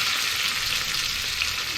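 Crushed garlic, curry leaves, cumin and dried chilies fry in hot oil, giving a steady, close, even sizzle with no talking.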